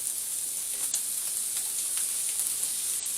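Bacon frying on a grill plate under a resting underplate, giving a steady close sizzle and crackle with a few small pops and scrapes.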